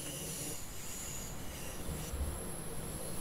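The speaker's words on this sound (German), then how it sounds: "Einerseits fährt hier gerade eine S-Bahn ein." An S-Bahn commuter train pulls into a station in the Train Sim World game on the Bremen–Oldenburg route, its wheels squealing in a sustained high metallic whine over a low rumble of the rolling cars.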